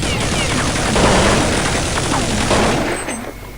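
A loud, rapid burst of automatic gunfire and impacts in a Counter-Strike match fills the scene up close, then tapers off at the end.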